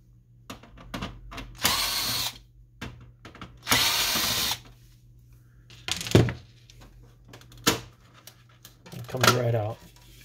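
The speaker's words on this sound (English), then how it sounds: "We're gonna remove screws on the back in order to get to inside of the printer." Power screwdriver bursts removing screws from the back panel of an Epson WorkForce WF-2650 inkjet printer, several short whirring runs spaced apart, close up, with a person talking between them.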